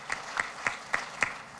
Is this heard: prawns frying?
no